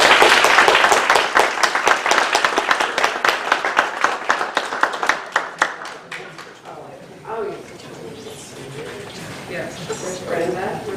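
Audience in a school district board meeting applauding nutrition staff, a dense burst of clapping that thins out after several seconds, followed by scattered voices talking.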